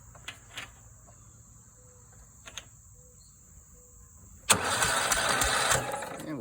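A Cub Cadet mower engine's starter cranks in a rough whirring burst lasting about two seconds, after a few faint clicks. A steady insect chirp runs quietly in the background.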